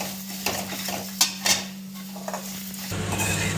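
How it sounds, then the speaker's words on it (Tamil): Grated coconut sautéing in a pan until golden, the base for a Chettinad chicken gravy: a steady sizzle with scraping, stirring and clinks of a spatula against the pan, up close. "தேங்காய் பொன்னிறமாக வர வரைக்கும் கொஞ்சம் வதக்கணும்."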